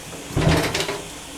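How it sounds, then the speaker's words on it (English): An Otis Series 1 hydraulic elevator door at a Holiday Inn Express slides open with a loud rumbling thud that fades into a softer rolling glide, no voices. "The door took a while to open."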